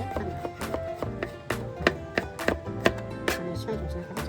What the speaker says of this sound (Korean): 문제 없이 마늘을 썰어줍니다.